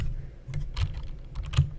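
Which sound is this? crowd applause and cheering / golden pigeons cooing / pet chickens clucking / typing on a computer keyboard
typing on a computer keyboard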